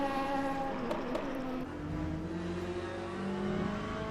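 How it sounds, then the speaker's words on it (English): A BMW race car in a sim racing game revs hard, its loud, tonal engine note climbing and shifting as it pulls through gears, close and steady with no talk. "That BMW sounding amazing"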